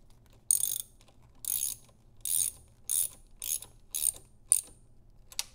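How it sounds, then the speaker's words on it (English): A 10 mm ratcheting wrench tightening the 12V battery terminal on a Tesla Model 3, seven short rhythmic clicking bursts, close and crisp, no talk. "then use the 10 millimeter wrench on it"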